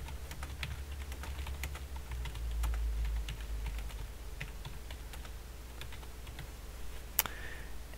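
Steady typing on a computer keyboard, a run of quick close clicks over a low background hum, with a brief sharper sound near the end.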